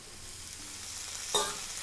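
Capsicum tipped into masala frying in a pan, giving a soft steady sizzle with a brief louder burst as the pieces land, all fairly faint and close.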